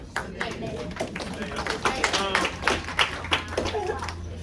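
Scattered clapping from a school audience during a presentation, individual claps audible in an uneven rhythm, with people talking at the same time.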